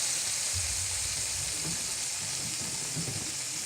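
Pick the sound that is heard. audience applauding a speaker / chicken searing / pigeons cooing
chicken searing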